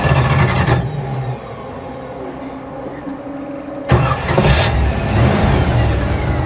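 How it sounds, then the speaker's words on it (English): A 1955 Chevy Nomad with a manual transmission cranks and fires up, running briefly before its engine roars back to life with a loud, close revving burst partway through. "Okay, so clutch in, start it."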